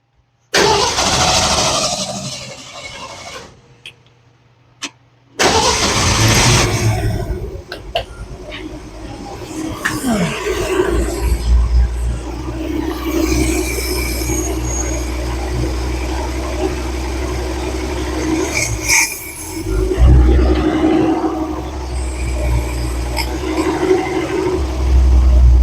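A 1966 Ford F-100 truck engine cranking and catching, cutting out briefly, then restarting and settling into a loud, steady, slightly uneven idle with occasional rises in revs, heard close up.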